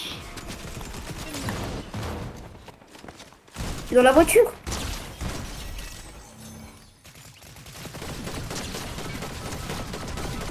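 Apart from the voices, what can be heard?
gunfire from pistols in a video game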